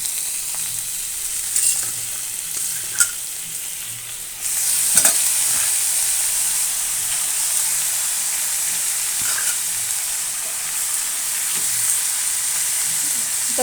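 Cabbage frying in a pan for a cabbage and channa dal gravy, with a steady sizzle that jumps louder partway through, plus occasional scrapes and taps of stirring and no talking.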